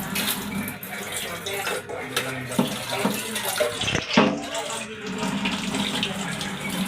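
An eight-year-old child washes dishes at a kitchen sink while the tap runs, with close clinks of plates and cutlery over a steady water hiss, and a voice talks briefly.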